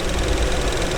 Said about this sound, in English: What you're hearing in the background is my F-150 running to charge the battery of this tractor.